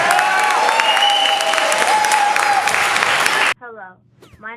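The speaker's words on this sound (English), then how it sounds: "Give the mayor a round of applause." A crowd at a 9/11 community tribute applauds the mayor in a loud, sustained burst of clapping with a voice over it, cutting off abruptly before quieter speech follows.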